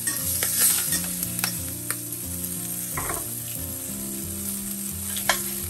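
Vada frying in hot oil at home alongside potato preparation, a steady close sizzle with stirring clinks and scrapes and no talking.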